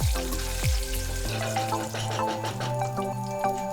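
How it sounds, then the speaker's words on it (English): Whole spices (green cardamom, cinnamon stick, bay leaf and cumin seeds) sizzle in hot oil in a pan, a steady close frying hiss with small pops throughout. "1 bay leaf, 1 teaspoon cumin seeds, and fry this for about a minute."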